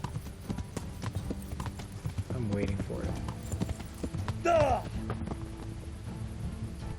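Rapid hoofbeats clatter steadily like a galloping horse in the video game Kingdom Come: Deliverance, with a brief whinny midway and a voice talking over it.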